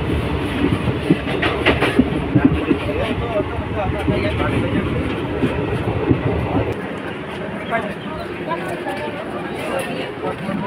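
A train on the Banihal to Anantnag line in Kashmir rumbles and clatters steadily on the rails, loud and close, easing slightly toward the end, with passengers talking throughout.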